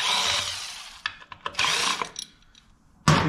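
Bolts being loosened on a Harley-Davidson Street Glide with a power tool, close bursts of whirring and ratcheting separated by short pauses, no talk.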